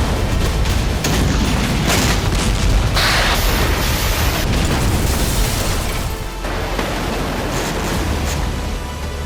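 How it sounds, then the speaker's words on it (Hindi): Heavy explosions from Russian bombardment of the Izmail and Reni ports in Odesa region form a loud, continuous roar of booming blasts and rumbling bursts that never lets up. "रूस ने एक बार फिर ओडेसा के इस्माइल और रेनी पोर्ट पर जबरदस्त बमबारी की"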